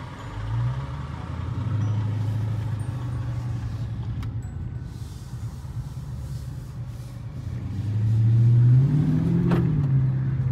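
A Dodge Charger Daytona Scat Pack engine drones low at moderate volume, then swells into a louder, deeper rev near the end as the car accelerates.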